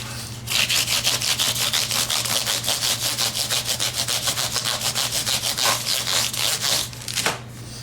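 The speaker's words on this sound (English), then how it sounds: "now I have a piece of 1200 grit, and I'm going to do the exact same thing" A guitar neck is hand sanded with 1200 grit sandpaper in fast, even back-and-forth strokes, loud and close, a rhythmic rasping that stops near the end.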